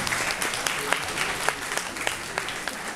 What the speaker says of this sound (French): Alors franchement, je voudrais qu'on applaudisse très fort Juliette.